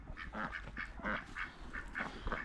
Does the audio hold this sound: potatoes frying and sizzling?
no